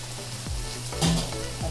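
Tomatoes sautéing in oil for a spicy crab roast curry, a brief close sizzle with a couple of spoon scrapes and a soft clink, no talk.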